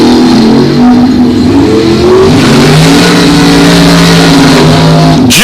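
Mustang and Malibu drag cars at a bracket race, engines roaring loud and close as they launch, rising in pitch through several quick gear pulls over about five seconds.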